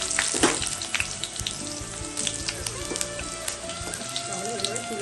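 Okra dipped in besan batter sizzles and crackles steadily in hot oil, with a close, continuous frying hiss broken by faint pops and a light clink or two.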